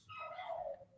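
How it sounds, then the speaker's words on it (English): A dog somewhere in the background gives a single brief, high, falling yip or whine, faint and lasting about a second, with no talk over it. "pardon the dog having a fun little time in the background there"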